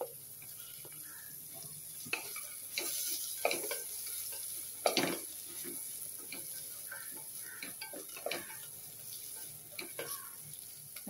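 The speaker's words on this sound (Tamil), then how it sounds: "வெங்காயம் ஒரு 1 நிமிஷம் வதங்கட்டும்." Sliced large onions sautéing with garlic in a pan while drumstick soup is cooked, giving a soft steady sizzle with scattered stirring clicks and scrapes, fairly quiet and close, with no talking.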